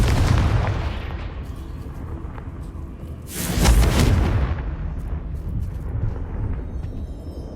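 Confringo spell blasts in Hogwarts Legacy: a heavy, booming explosion hits midway and rolls off, over a loud, rumbling game soundscape.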